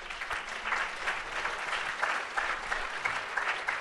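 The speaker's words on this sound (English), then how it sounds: "Let's give them a round of applause." Audience applause at a 2023 climate summit closing session, a continuous even patter of many hands clapping, fairly faint and distant-sounding, alone without speech.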